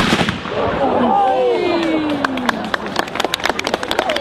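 Firework cannon fired at an outdoor royal-visit gathering in Strib: a whistling rise trails off into crackling bursts and sharp pops, with people chattering nearby throughout.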